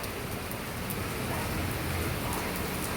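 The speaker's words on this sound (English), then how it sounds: "now it is raining heavily" Heavy rain pours down steadily, a dense, loud and even hiss of drops with no pauses.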